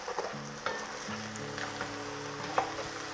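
Pork preparation seasoned with pepper is stirred gently in a frying pan, a steady low sizzle with soft scraping stir sounds and a couple of sharper clinks, close and alone.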